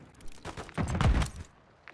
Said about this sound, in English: Where did I get shot from